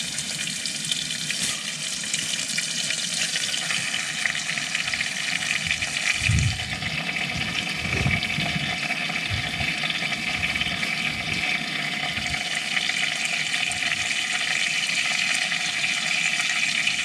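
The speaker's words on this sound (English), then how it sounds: "So now it's time to fry the beef." Beef frying in a pan at a forest campsite, a steady loud sizzle and crackle running continuously, with a few soft knocks of utensils underneath.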